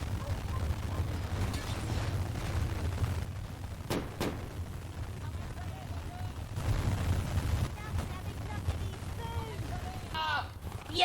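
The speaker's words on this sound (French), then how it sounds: "bombes lacrymo et grenades fumigènes côté shérif," Firecrackers and tear gas grenades go off during a riot in a video game, sounding as scattered sharp bangs and pops over a rumbling, crowded background with voices mixed in.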